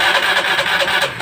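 Honda Beat, Vario or Scoopy fuel-injected scooter cranking on its starter motor: a loud, close, continuous whirring churn lasting about a second, with no talk over it.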